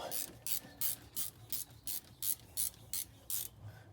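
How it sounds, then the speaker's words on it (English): Wrench ratcheting while tightening a car's front sway bar end link, a steady series of about ten rhythmic, close metallic clicking bursts at even intervals, with no talking. "we will tighten this down now with a couple of wrenches"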